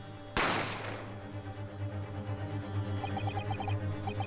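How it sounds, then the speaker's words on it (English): A single sharp gunshot from the video game The Great Ace Attorney cracks loud and close, then a long decaying reverberant tail settles under a low pulsing musical drone. "You heard the gunshot, you mean?"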